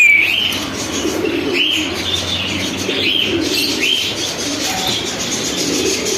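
Racer and beauty pigeons in a crowded pigeon shop, soft repeated coos rising from a steady bed of background chatter and bird noise, with occasional chirps and brief wing movements.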